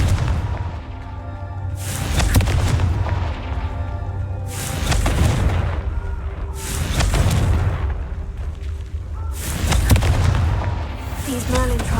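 Repeated Confringo blasting-spell explosions boom out in Hogwarts Legacy, five loud, close bursts arriving at a steady interval of a couple of seconds, each with a heavy low thump and crackling tail.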